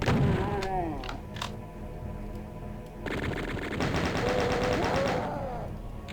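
Chaingunner enemies fire rapid machine-gun bursts on a Doom map, in sustained rattling volleys with short gaps between them, loud and close.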